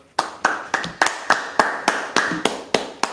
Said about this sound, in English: All right, clap that up.